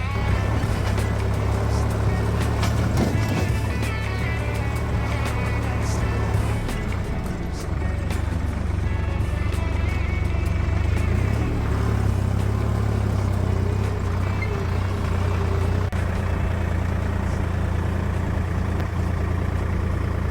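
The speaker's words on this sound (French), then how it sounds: "De retour le tracteur." A farm tractor's engine runs steadily, a low continuous rumble that keeps going throughout, fairly close and alone with little else heard.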